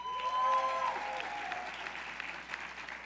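At the 2016 New York City State of the City address, supporters in a hall break into applause with a whoop or two, a steady fairly distant clapping that continues for about three seconds.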